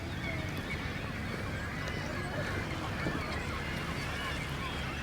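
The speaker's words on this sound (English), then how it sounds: "is the world's grumpiest seagull right here." A seagull calls harshly near the shore in Marquette, Michigan, its squawks rising over a steady wash of wind and water noise, with occasional low voices.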